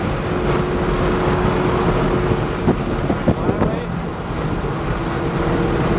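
A Ferrari engine on a race track holds a steady, even drone while driven gently under light throttle, with wind rush across the microphone and a few soft knocks partway through.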